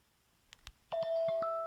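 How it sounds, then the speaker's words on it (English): A phone call placed on speakerphone, with a few faint taps and then a steady electronic ringback tone that sounds close and moderately loud. "I'm going to make the phone call right now."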